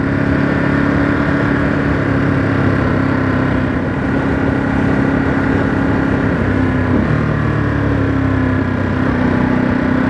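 A 2023 Ducati Monster SP motorcycle engine under way on the road, a steady loud drone with a brief dip as it shifts down from third to second.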